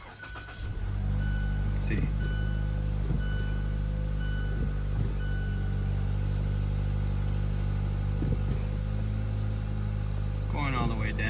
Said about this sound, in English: Let us turn on the car.